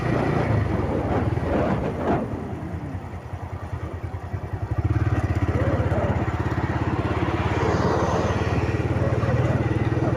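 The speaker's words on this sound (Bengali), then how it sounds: "বাইক নিয়ে পার হচ্ছে।" Motorcycles crossing the Padma Bridge, engines droning steadily nearby, with a brief clatter early on, then a louder, even engine roar taking over for the second half.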